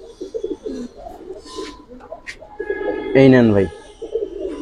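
Giribaz and coloured pigeons coo nearby in low, throaty rolls. One loud, rising coo stands out near the end. Someone speaks briefly over the birds.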